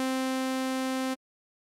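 Zebra2 software synthesizer on its initialize patch, a single steady buzzy tone at one pitch sustained for about a second, then cut off abruptly into silence; clean and alone.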